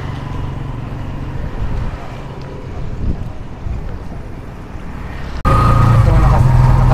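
Motorcycle taxi ride in the rain in Puerto Princesa, Palawan: a steady rumbling engine and wind rush fill the whole stretch, jumping suddenly louder near the end.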